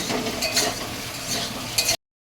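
Potatoes and greens stalks being stirred in a hot pan after tempering spices, a steady close sizzle with scraping strokes for about two seconds, no talking.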